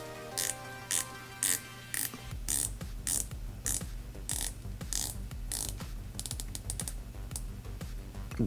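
An MMI Turret 300m automatic diver's watch bezel with a thin aluminum insert is turned in a steady run of crisp, close ratchet clicks, some spaced and some in quick bursts, with no talking.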